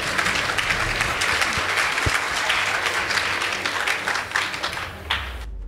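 Audience at a school debate competition applauding the Annester Lanet boys team, sustained dense clapping at a steady level that cuts off abruptly at the end.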